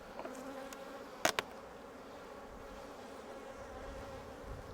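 Honeybees buzz around beehive splits being assembled, a steady outdoor hum with a couple of louder passes close to the microphone.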